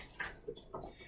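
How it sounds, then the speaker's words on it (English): Water running from a dry sink tap after a valve is turned, a soft close trickle with small splashy bursts and gurgles, heard alone. "I just turn the valve this direction and I get a really good flow of water"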